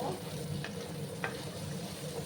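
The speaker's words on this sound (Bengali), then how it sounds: "লাল করে আমি গাঠি কচুগুলোকে ভেজে নেব" Gathi kochu taro pieces fry in a pan to brown them, a steady soft sizzle with a couple of brief spatula scrapes against the metal, no voices.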